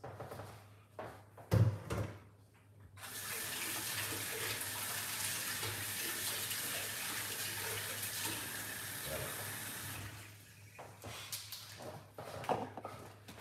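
A kitchen tap runs steadily for about seven seconds while something is rinsed under it, with clunks and handling noises before and after the flow.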